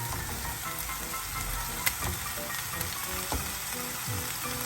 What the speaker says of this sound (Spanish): Vamos a agregar aquí nuestra cebolla para sofreírla.